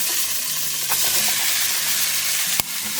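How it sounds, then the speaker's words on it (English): Chopped vegetables sizzling in a hot pan that was just used to cook chicken for a lightened chicken scampi, a close, steady, loud hiss with a few light clicks and one sharp knock. "in the same pan, I'm gonna add in my veggies"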